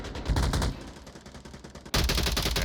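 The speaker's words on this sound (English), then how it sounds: "they are putting a lot of bullets downrange into the north side on this Resurgence team" Rapid gunfire in Onward VR, dense overlapping rifle bursts that rattle continuously, dip briefly, then resume loudly and close, with no talk over them.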